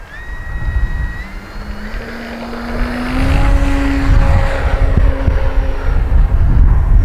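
An E-flite Carbon Z T-28 RC plane taking off, its electric motor whining and rising in pitch as it speeds up and climbs, loud and close, with wind noise on the microphone.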